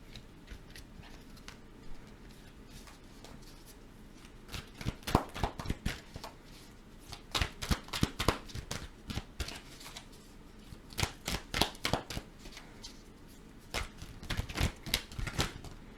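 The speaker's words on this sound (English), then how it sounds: "I'm going to pull some more cards here" Tarot cards being shuffled and drawn, a dense run of crisp papery flicks and snaps that start sparse and build into rapid bursts, close and fairly quiet, with no talking.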